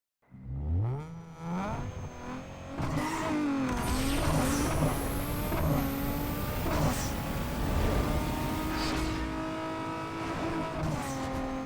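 Nissan 350Z with a 3.5L V6 on a drag run in Need For Speed Underground 2: engine revs climbing and shifting through gears with tire squeal, loud and close, no talk.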